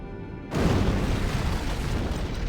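An antimatter charge explosion in Halo: Combat Evolved, a sudden loud boom that cuts off a quiet hum and rumbles on for two seconds.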